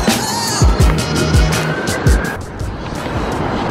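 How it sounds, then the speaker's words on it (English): A longboard rolls along a city street in a Midtown bike lane, wheels rumbling steadily with several sharp clacks as it rides over pavement seams, passing traffic noise in the background. "Longboarding Midtown"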